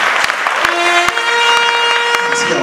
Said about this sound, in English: Please, a beautiful round of applause for him.